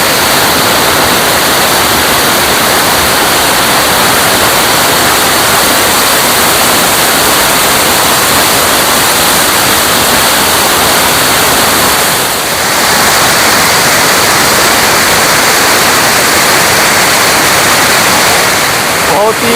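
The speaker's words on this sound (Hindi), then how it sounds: "मैं इस वक्त झरनों के पास पहुँच गया हूँ" Waterfalls pour in a mountain valley ringed by huge rocky peaks, a steady, loud, broadband roar of rushing water, close and continuous throughout with no break.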